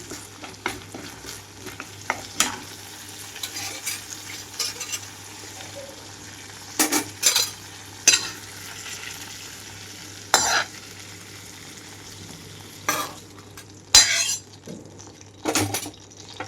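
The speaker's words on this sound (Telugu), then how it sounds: "పుదీనా వేసి వేయించుకుంటున్నాను" Mint leaves frying in a pan for a lentil chutney, with a steady low sizzle broken by repeated sharp scrapes and clinks of a utensil stirring against the pan.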